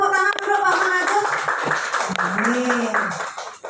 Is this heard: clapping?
yes